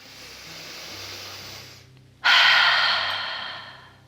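A person draws a deep breath in, starting as a soft, slow inhale and ending in a sudden, loud, airy rush close to the microphone, heard alone.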